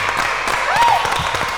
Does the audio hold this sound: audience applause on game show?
yes